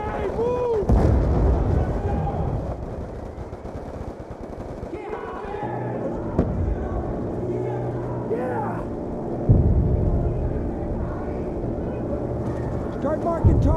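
Call of Duty Black Ops 2 battle scene with heavy gunfire and explosions, including a grenade blast, rumbling loud and continuous while voices shout over the combat.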